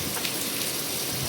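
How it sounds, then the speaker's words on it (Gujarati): Rain with wind, a dense, even wash of falling rain on surfaces, loud and continuous for a short stretch with no voices. "પવન એવું આવે છે ને વરસાદ એવો આવે છે"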